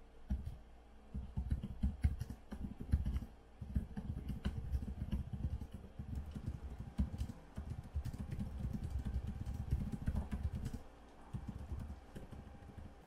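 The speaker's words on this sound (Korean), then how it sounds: "간단하게 키보드 타건 부분을 보여드리도록 하겠습니다" Steady, rapid clatter of keys being typed on a Gigabyte Aorus 15X gaming laptop keyboard, continuous for most of the stretch with a brief pause near the end.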